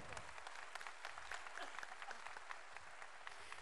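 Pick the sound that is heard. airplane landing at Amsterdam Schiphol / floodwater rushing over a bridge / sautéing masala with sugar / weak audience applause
weak audience applause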